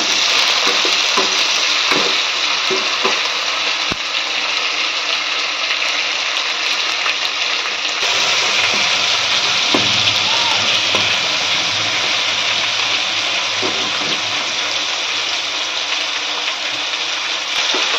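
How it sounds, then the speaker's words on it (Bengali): Chopped tomatoes with whole spices sizzling in oil in a pan for a chicken dish, a steady loud hiss with occasional stirring scrapes, continuous throughout. "এবার টমেটো কুচিগুলো এর মধ্যে দিয়ে দেবো, দিয়ে মশলাটাকে একটুখানি কষিয়ে নেব, গোটা মশলাগুলোকে।"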